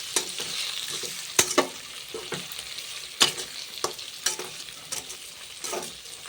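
Stuffed eggplant fry (gutti vankaya) being stirred in a pan, with a steady sizzle of frying under repeated scraping strokes of the spoon against the pan, no talking.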